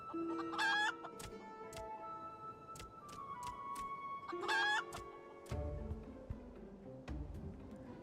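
Chicken clucking and crowing from the video game Final Fantasy 14, with two bursts of rising, stacked cackles near the start and middle, set among brief game chimes and tones against a steady background.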